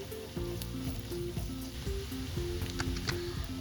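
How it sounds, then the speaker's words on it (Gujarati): Garlic paste and finely chopped green chillies sizzle in a pan, a steady close crackle with occasional stirring scrapes and clicks throughout, no voices. "હવે આ બધાને લગભગ 30 સેકન્ડ સુધીને સાતળી લઈશું"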